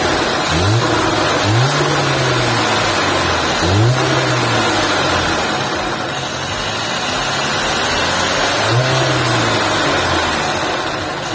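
A Mercedes-AMG GLA 35 SUV's turbocharged engine runs loud and close, climbing in pitch through several sharp revs and falling back to a steady idle rumble between them.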